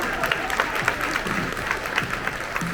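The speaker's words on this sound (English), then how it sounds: "Everybody give our teammate a applause." Applause at an awards luncheon, a room of people clapping steadily at moderate volume, with some crowd murmur mixed in.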